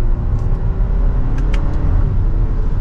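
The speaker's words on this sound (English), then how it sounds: "We'll go down to third gear, just give it a mild acceleration." A Lexus NX350 accelerating mildly in third gear in manual mode, a smooth low engine rumble with road noise heard from inside the cabin, steady and fairly loud, with no talk.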